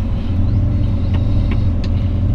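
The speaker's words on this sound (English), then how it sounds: "We're going to fire it up here" A 1966 Chevrolet Chevy II Nova SS engine running loud and close after starting, a steady heavy rumble with a few faint ticks over it.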